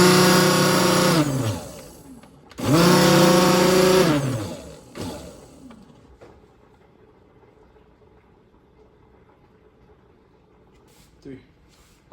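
A kitchen blender with its lid on runs in two loud, whirring bursts, each spinning up and then winding down, before falling into near silence with faint handling noises.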